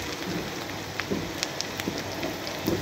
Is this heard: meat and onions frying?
yes